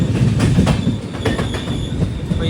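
Kerala Sampark Kranti Express running on the line from the Thiruvananthapuram division into the Palakkad division, a loud, steady rumble of rolling coaches with rhythmic wheel clatter and brief metallic squeals, heard close from on board.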